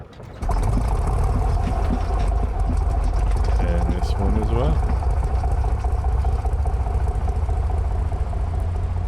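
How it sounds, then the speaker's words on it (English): An old light airplane's piston engine runs rough while on a single magneto, a loud steady drone filling the whole clip with brief talk over it. "that roughness that you hear from the engine, that's partially being on one mag"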